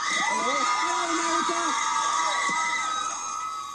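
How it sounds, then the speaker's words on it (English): A large crowd of fans screams and cheers at a boy band concert, a dense, loud, continuous roar with shrill high-pitched shrieks rising above it throughout. "They're screaming inside, they're screaming outside."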